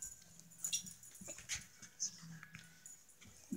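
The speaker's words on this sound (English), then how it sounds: "It's my dog." A pet dog whimpers indoors at home in soft, high whines and yips spread across a few seconds, fairly faint, with quiet room noise between the cries.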